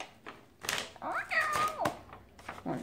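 A person imitates a cat with a drawn-out meow, surrounded by soft tapping and rustling noises while unboxing a diamond painting kit.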